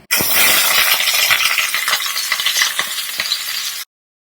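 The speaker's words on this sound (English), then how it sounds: "So I'm just going to fry the green chilies." Steady crackling sizzle of green chilies frying in a hot pan, close and continuous, with scattered light pops and clinks, then it cuts off.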